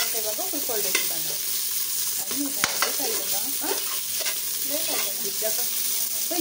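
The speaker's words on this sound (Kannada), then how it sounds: "ಇದು ಗೋಲ್ಡನ್ ಬ್ರೌನ್ ಆಗುತ್ತೆ ಅಂತ ಇವಾಗ ಹುರ್ಕೊಳ್ಬೇಕು ಇದನ್ನು." Onions frying with ginger in a hot pan until golden brown, a steady close sizzle with repeated scraping and stirring strokes of a spatula throughout and no talking.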